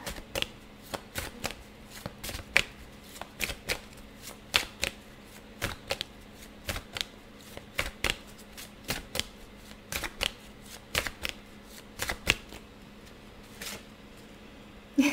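Tarot cards riffled and flicked in repeated sharp bursts, a rapid irregular series of crisp clicks and snaps close to the microphone in a quiet room.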